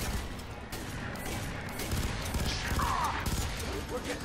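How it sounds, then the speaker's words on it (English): Rapid gunfire crackles in dense bursts amid booming explosions in the video game Fear 3, loud and continuous, with a brief voice heard under the noise. "Ah, that's explosions."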